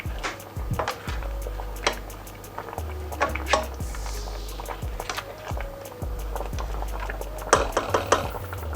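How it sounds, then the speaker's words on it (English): Tilapia fish pepper soup with crayfish stirred in a pot: repeated knocks and scrapes of a spoon against the pot in an uneven rhythm, close and moderately loud, with a soft bubbling underneath. "So stir all together."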